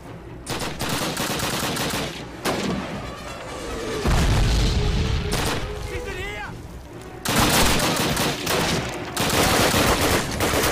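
Artillery fire in Call of Duty during the Warsaw tank factory level, heavy booming blasts and rattling bursts of gunfire, loud and near, with a voice talking between shots.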